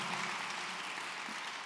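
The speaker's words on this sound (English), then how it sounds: "Let's give him a huge round of applause." An audience at a church service applauds with a continuous, even wash of clapping, heard somewhat distantly.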